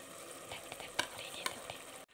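Ghee-roasted rice being stirred into mutton biryani masala in a pot, a soft continuous scraping and faint sizzle with a few sharper clinks of a spoon, close but quiet, ending abruptly.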